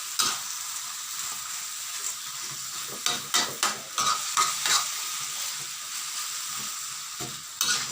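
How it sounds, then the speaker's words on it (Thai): Thai hang le curry paste and meat stir-fried in a hot pan, a steady close sizzle with scraping spatula strokes and soft clinks running throughout, no voices. "คั่วไปเรื่อยๆครับเพื่อน"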